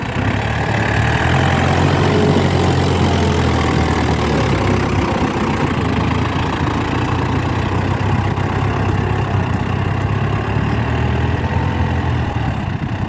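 A Yanmar YM357 tractor, a 57-horsepower direct-injection diesel, plowing a rice field, its engine droning steadily and loudly with a low rumbling chug that holds throughout, close to the microphone.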